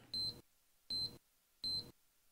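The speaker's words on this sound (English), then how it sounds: "During this time, you will hear a constant beeping." Three short, evenly spaced electronic beeps from a Valor fireplace remote during ignition, quiet and high-pitched, repeating about once every second.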